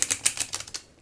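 Stiff, thick new oracle cards being shuffled by hand, a quick run of about eight crisp, papery snaps and riffles, close and loud, fading out at the end.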